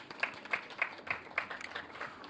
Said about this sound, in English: Let us give again a round of applause